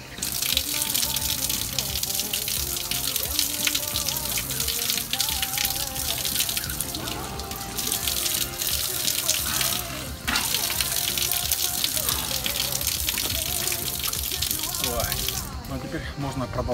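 Tap water runs steadily from an outdoor drinking fountain on the French Riviera, a continuous splashing gush with a voice speaking over it.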